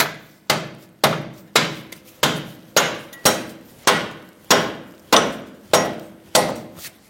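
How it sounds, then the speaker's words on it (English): A rubber mallet taps a car's control arm into place with about eleven evenly spaced, sharp thuds, loud and close, with no talking. "use a rubber mallet to tap it in."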